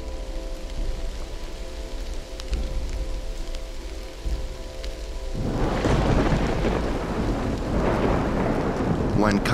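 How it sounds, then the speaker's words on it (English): Steady rain hisses throughout, then a deep, loud thunder rumble rolls in midway and keeps growling over the downpour. "a thunderstorm started to roll through into the early hours the next morning"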